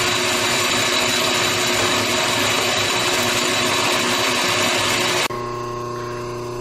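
A loud, steady machine whine and grinding as a lathe makes a first, shallow cutting pass on a rear hub, running continuously before abruptly dropping to a quieter hum near the end.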